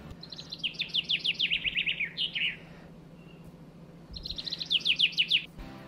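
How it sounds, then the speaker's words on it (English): A bird sings two rapid trilled phrases of repeated chirps, separated by a short pause, recorded on a phone, clear against steady low background hum. "I am not sure what species of bird I recorded"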